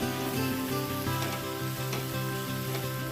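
Turmeric and chilli powder sizzling in a pan after a splash of spice-rinse water is added, a loud continuous hiss and crackle with faint rhythmic scraping of a spoon, no voices.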